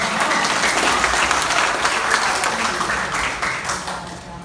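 Audience applause at a county government public briefing in Matsu, a dense sustained clapping from a sizable crowd that fades slightly toward the end, with faint speech underneath.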